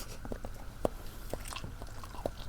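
Close, quiet biting and chewing of puti fish curry cooked with potato and spinach, a few soft crunches and wet mouth sounds spaced irregularly, no talking.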